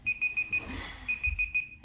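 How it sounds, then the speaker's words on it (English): An alarm clock beeps in repeated rapid bursts of short, high electronic tones, close and fairly loud, pausing briefly in the middle before resuming, with no one talking. "I set an alarm."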